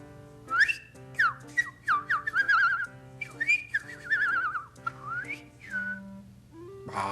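A person whistles in imitation of a bird, producing a string of bright, gliding chirps and warbling trills in quick bursts with short pauses, close and clear, with no talking.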